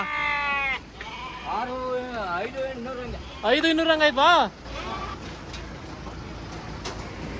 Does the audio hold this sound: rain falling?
no